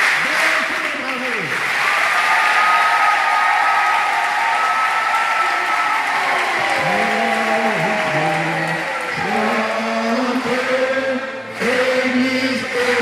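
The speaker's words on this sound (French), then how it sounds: "Il faut aussi applaudir le mérite." A congregation applauds during Mass at St Marie cathedral in Gabon, and sustained reverberant clapping rolls under voices that call out and chant melodically over it.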